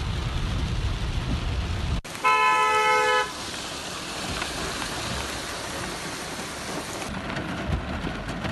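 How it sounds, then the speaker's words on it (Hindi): Heavy downpour from dark storm clouds, a steady wash of rain noise throughout, with a brief burst of high tonal beeping early on and no clear thunder crack. "काले काले बादल घिराए और मूसलाधार बारिश शुरू हो गई।"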